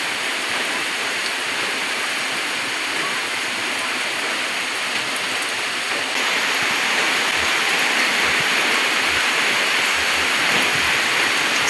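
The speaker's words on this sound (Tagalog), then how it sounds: "Ulan diri sa Mapua." Heavy rain pours down in a steady, dense roar that stays loud throughout and swells slightly partway through, with occasional low thumps.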